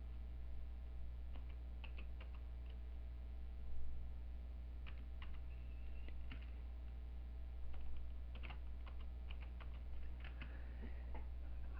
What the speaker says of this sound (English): now you can put in your name by typing in the name.